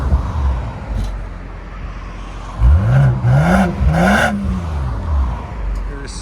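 A 2025 BMW X5 xDrive50e with a 3.0L inline-six hybrid powertrain and Flowmaster 80 Series exhaust idles, then revs loudly three or four times in rising and falling sweeps close by, and settles back to a low rumble.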